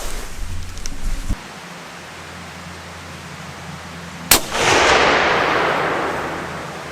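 An unsuppressed .284 rifle fires once on an outdoor range, a sudden sharp crack about midway followed by a long decaying rumble and echo, loud and with no talk.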